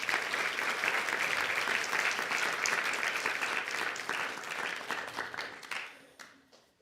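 Audience applause for a young adults' medley performance at an Aradhana Mahotsavam celebration: a dense, sustained round of clapping that holds steady, then thins and fades out near the end.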